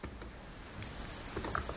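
Arduino code is typed on a computer keyboard in a quick burst of irregular key clicks, faint and close, over a quiet background without speech.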